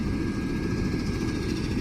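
A helicopter's rotor spins up on the ground just before takeoff, giving a steady, loud low-pitched droning whir that continues without a break and without voices.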